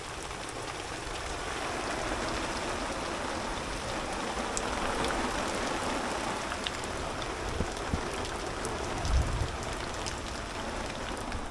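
Steady rain falls on a campsite in Wallaroo State Forest, a dense, even hiss of drops on leaves and canvas that holds for the whole stretch with no voices.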